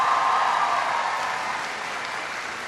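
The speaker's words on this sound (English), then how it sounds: "Give Teresa a big round of applause" A large audience at a college speech event applauds steadily, a dense wash of clapping that holds fairly even and fades slightly toward the end, with no voices over it.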